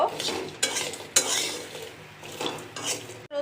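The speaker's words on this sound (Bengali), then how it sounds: "কিছু কাঁঠালের বীজে শুকিয়েছিলাম সেগুলোকে এখন ভালো করে ভেজে নিব" Dried jackfruit seeds stirred and frying in a pan, with steady sizzling broken by several sharp scrapes and clinks of a utensil against the pan, close and fairly loud.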